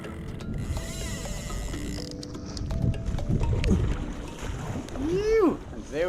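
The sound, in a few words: paddling a kayak while fishing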